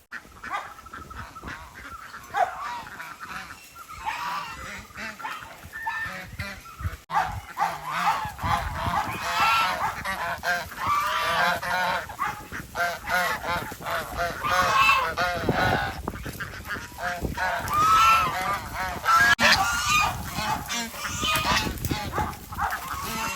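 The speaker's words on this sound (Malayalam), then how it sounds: "ഒറ്റപ്പാറയും കൂടാതെ ഗൂസ് മണിത്താറാവ് സാധാ താറാവ്" Geese honk repeatedly on a farm where ducks, chickens and Rajapalayam dogs are kept, the harsh calls overlapping at close range while a dog barks in the mix; no one speaks.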